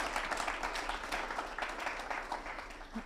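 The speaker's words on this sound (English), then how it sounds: "Oh, we can applaud." An audience applauds at a conversation event on nonviolence, steady clapping from many hands filling the room at moderate loudness for a few seconds.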